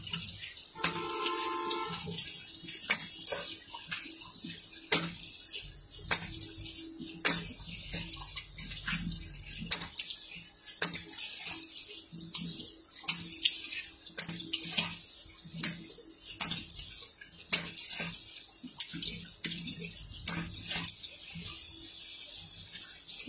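Tap water runs steadily into a sink while someone splashes and rinses their face, with irregular splashing bursts over the continuous flow, close and fairly quiet.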